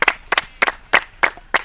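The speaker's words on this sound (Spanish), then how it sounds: "quiero un aplauso para ellos" A small group claps for children after a goalkeeper training session, six short bursts of applause in an even rhythm, close and fairly loud.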